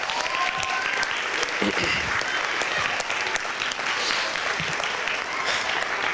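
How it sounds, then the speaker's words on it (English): A spring concert audience gives a round of applause, a loud, sustained crowd of clapping that fills the whole stretch, with faint voices mixed in. "Give yourselves a round of applause."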